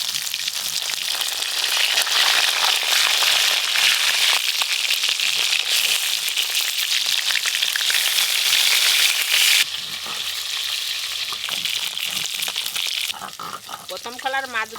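Catla fish pieces, just flipped, frying in hot oil for a light gourd curry: a strong continuous sizzle that drops partway through to a softer crackle, with a brief murmur of background voices near the end.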